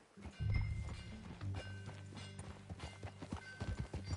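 A horse's hooves pound in a quick, uneven rhythm as it gallops nearby in Red Dead Redemption 2, with a low background hum and occasional snorts.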